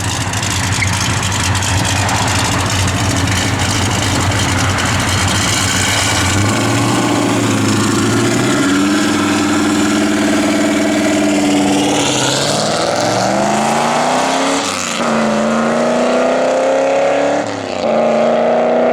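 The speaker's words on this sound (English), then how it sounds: "Little truck getting ready to come in." Small truck engine idling loudly up close, its steady drone shifting in pitch with a few revs and speed changes as it pulls in.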